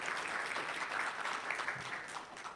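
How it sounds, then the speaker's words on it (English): Brief burst of audience clapping at a community gathering, moderately loud and continuous for a couple of seconds with no talking over it. "Let's give a round of applause to that."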